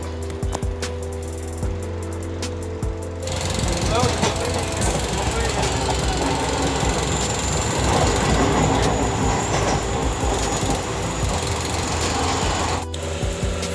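A train travelling from Tinsukia to Guwahati gives a loud, steady rumble with rhythmic clatter from the wheels. It swells after a quieter opening and runs on without a break.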